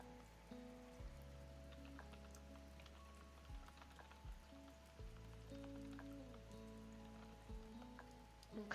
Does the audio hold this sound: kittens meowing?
no